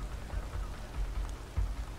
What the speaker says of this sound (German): Verdammter Regen.